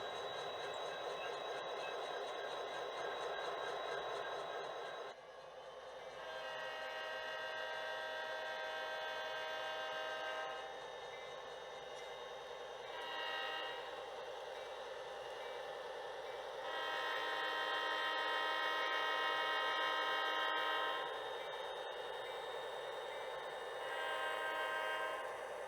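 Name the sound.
HO scale model train approaching and sounding its horn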